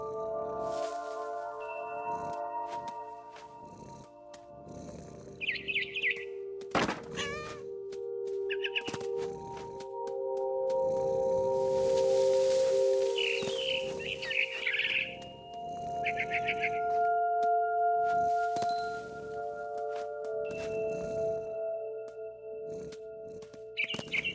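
Frightened bird in the video game What Remains of Edith Finch, giving short sharp chirp bursts scattered through the scene over sustained tonal music, with rustling and soft thumps between calls.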